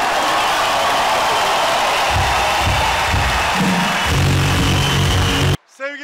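Crowd applause and cheering at a Workers' Party of Turkey rally, a dense continuous roar of clapping from a large outdoor gathering that cuts off abruptly near the end.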